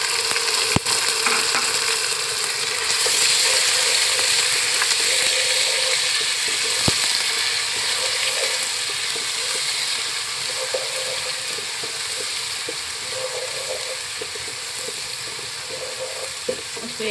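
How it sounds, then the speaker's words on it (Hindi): Garlic ginger paste fries in a pan with a loud, continuous crackling sizzle, close and steady throughout, with a few sharp clicks of a utensil along the way. "उसको 1 मिनट कुक करेंगे लहसुन अदरक को"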